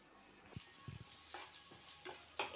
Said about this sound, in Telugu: ఇందులో బాగా వేగాల్సిన అవసరం లేదు, కొద్దిగా ఆనియన్ కొంచెం వేగితే చాలు